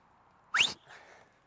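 A referee's whistle gives one short, sharp blast during a soccer training drill, followed by a faint trailing tone in an otherwise quiet moment.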